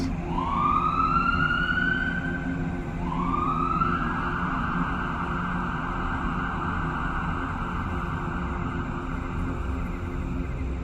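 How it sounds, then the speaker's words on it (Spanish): Ambulance and police sirens wail loudly: two quick rising sweeps, then one sustained high tone over a constant low traffic rumble, with no voices. "Esa noche en la colonia se escucharon sirenas, una ambulancia, una patrulla."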